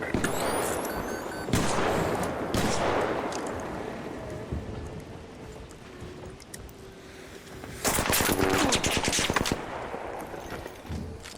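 Bursts of enemy gunfire in the game Arc Raiders, loud crackling volleys near the start and again toward the end over a steady ambient backdrop.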